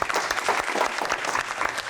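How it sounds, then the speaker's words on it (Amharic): A small group claps enthusiastically in brisk, uneven rapid claps, close and lively, sustained for a couple of seconds without a break. "ቆይ መጀመሪያ እንደዚህ ስለያዝኩ ራሱ አጨብጭቡልኝ እናንተ።"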